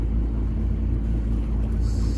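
A boat engine runs at a steady 2200 RPM with the propeller on a Bruntons Autoprop II, giving a constant low rumbling drone at an even level that stays close and loud throughout.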